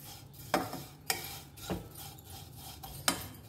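Flattened rice (chira) being dry roasted in a pan, stirred with a utensil that scrapes and clinks against the metal in several sharp strikes between softer rustling of the grains.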